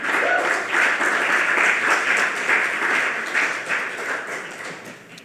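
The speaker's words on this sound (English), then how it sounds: "Give yourselves a round of applause for making great rain." An audience applauds after a poetry performance at a showcase: dense, steady clapping fills the room for about five seconds, fading slightly toward the end, with no talk over it.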